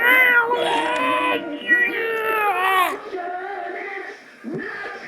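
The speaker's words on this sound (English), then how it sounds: "Sounds like the cat's angry." An angry cat yowls and meows in long, drawn-out wails, several strained cries in a row, close and fairly loud with brief pauses between them.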